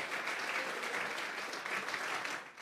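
Steady applause from a church congregation offering praise to God, a dense continuous patter of many hands clapping at even loudness throughout, with no voices standing out.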